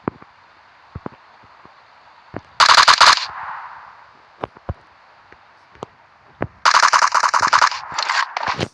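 Two rapid, loud bursts of automatic gunfire from the PUBG Mobile video game, set against faint wind and scattered soft clicks and rustles.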